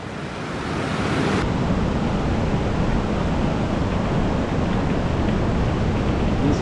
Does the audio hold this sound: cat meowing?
no